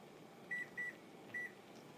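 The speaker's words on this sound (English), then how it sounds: "I'm going to set a timer." Three short electronic beeps from a kitchen timer being set, two close together and then one more after a short pause, clear and close over a low steady hum in a home kitchen while pasta water boils.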